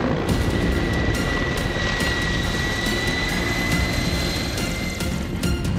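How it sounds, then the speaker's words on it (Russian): A Mi-35P military attack helicopter flies low over the ground, maneuvering in steep banks, with loud, continuous rotor and turbine roar and a steady whine. It is close and constant throughout. "В этот раз вертолет устраивает над землей танец"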